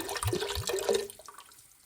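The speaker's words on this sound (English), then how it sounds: "then in goes the second bottle. Lots of clam juice here." Bottled clam juice glugs and splashes as it pours into a cooking pot for New England clam chowder, a close burst of liquid lasting about a second before tapering off into quiet.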